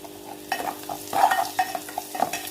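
Crushed garlic cloves with turmeric and salt being sautéed in a pan, a soft continuous sizzle broken by repeated scraping stirs of a utensil against the metal, close and unhurried, with no talking.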